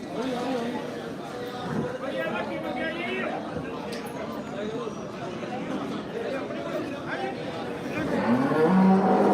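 Buffalo low repeatedly at the Dhanaula livestock market amid a busy crowd with people chattering all around; a louder, closer bellow swells near the end.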